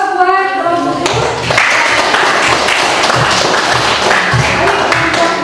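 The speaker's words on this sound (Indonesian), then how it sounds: "Beri aplaus buat kelompok itu." Classroom applause for a student group breaks out after a voice speaks and continues as loud, dense, steady clapping from many hands, with children's voices faintly mixed in.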